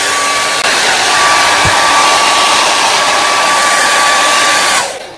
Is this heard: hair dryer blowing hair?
yes